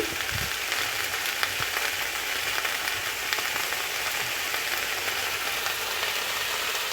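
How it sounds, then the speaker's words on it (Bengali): Cauliflower and potato pieces fry in a pan for a Bengali vegetarian curry, giving a steady, close sizzle with soft crackle throughout and no voices. "এমনিতে একটু ভেজে নেব"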